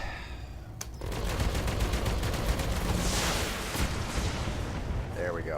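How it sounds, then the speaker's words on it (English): Heavy autocannon fire from an AC/20 in the BattleTech video game: a rapid, evenly spaced burst of loud booming shots that rolls on for several seconds into a rumbling explosion, then trails off. "Autocannon 20 to the center torso."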